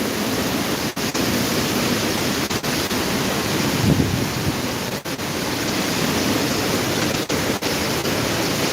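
Strong typhoon wind roars steadily and loudly in Bicol, Camarines Sur, a dense unbroken rush with brief gust dips and buffeting, and no voices.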